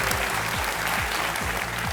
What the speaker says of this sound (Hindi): और पहले ही ताली बज गई है